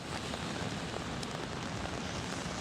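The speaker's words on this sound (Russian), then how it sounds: "Идем, и здесь дождь, везде дождь." Rain falling outdoors on a city street, a steady, dense hiss of drops on surfaces with no voices over it.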